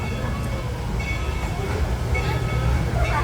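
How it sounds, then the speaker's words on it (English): Dollywood's Engine 70 steam train starts to roll, a steady low rumble and rattle of cars getting under way, loud and continuous throughout, with muffled chatter faintly in the background. "That got us a-rolling"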